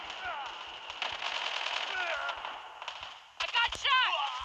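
Rapid bursts of automatic gunfire from Call of Duty Mobile on the Shipment 1944 map, crackling steadily through most of the moment with a louder flurry of shots and effects near the end.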